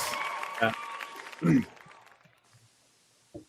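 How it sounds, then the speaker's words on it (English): A canned applause sound effect fires from a button on a movie podcast, a brief burst of clapping and cheering cutting in around talk, then quickly dropping away. "That was the most precarious applause button I've ever had"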